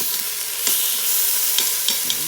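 Oxtails cook in a pot for a stew, giving off a steady sizzling hiss with a few soft bubbling pops and stirring clicks. There is no voice.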